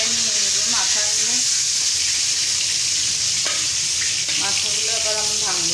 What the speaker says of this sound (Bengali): হালকা একটু ভেজে নিলাম।